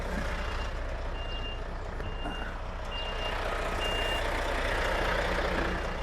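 A 44-ton truck reverses slowly through a caravan park, its regular reversing beeps sounding at steady intervals over a low, rumbling idling engine, with no talk.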